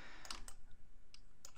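Computer keyboard keys are pressed during a graphics editing tutorial: a few faint, sharp clicks spaced irregularly over a soft background hiss, with no speech.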